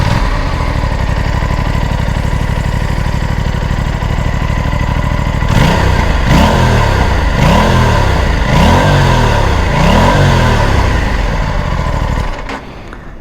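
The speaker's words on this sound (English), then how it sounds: "let's start the bike and see what it sounds like. The 270-degree crank." An Aprilia RS 457 motorcycle engine with a 270-degree crank idling loudly and close by, then revved in five or six sharp rising blips before it drops away near the end.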